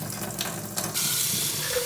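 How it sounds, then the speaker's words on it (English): Tap water running into a sink to rinse out a small athletic greens drink cup, a close hissing splash that grows louder and steadier partway through. "I just need to rinse out my little athletic greens cup"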